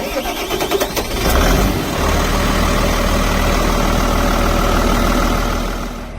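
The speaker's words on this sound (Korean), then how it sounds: "이제 시동을 끌어서 네, 누유 확인하고 누수 확인하고 그렇게 마무리 해 보는 걸로 하겠습니다. 네, 시동 거세요." A Volvo EW145B wheeled excavator, just repaired with a new water pump, cranks briefly and then fires, its diesel engine settling into a loud, steady idle that carries on to the end.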